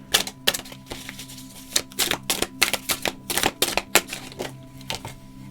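Tarot cards being shuffled by hand, a quick run of crisp flicking riffles and taps, close and fairly loud, with no talking over them.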